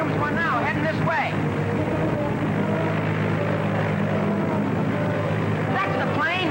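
A propeller plane with a missing, faltering motor drones overhead in a 1942 film scene. The engine noise is loud and continuous, with wavering pitch sweeps near the start and end, and no voices.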